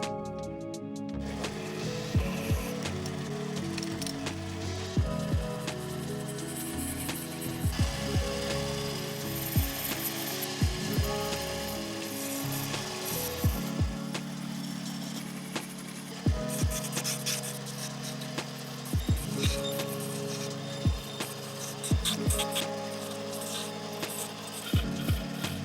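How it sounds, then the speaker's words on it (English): Round brass stock turned on a lathe to shape the arms of a dagger guard, a steady close scraping cut over motor hum, with repeated short sharp ticks and scrapes throughout and no talk. "I'll just turn the left and right arms of the guard in the lathe"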